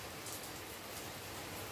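Rain falls outside, a soft, even hiss of steady drops with no other sounds and no voices.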